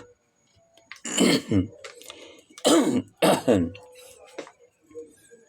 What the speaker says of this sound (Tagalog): pasensya na, medyo inuubo tayo